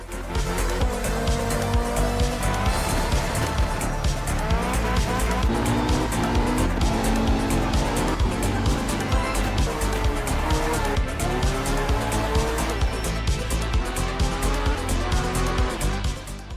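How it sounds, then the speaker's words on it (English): Rally cars from the Art of Rally video game roar continuously, engines revving and shifting with repeated tire squeals and skids as they slide through corners, loud and sustained. "This has you participating in rally driving with non-licensed cars"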